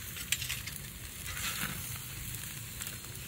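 Steaks sizzling on a mesquite grill, a steady close hiss and crackle with a few small pops, no talk.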